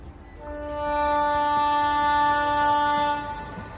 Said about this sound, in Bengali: খেয়াল হলো ট্রেন নড়ে উঠতে, তাই তো ট্রেন ছেড়ে দিল